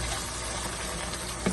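Prawns cook in a pan of spiced masala with garam masala and coriander powder, giving a steady, soft sizzle and bubble throughout with no talk.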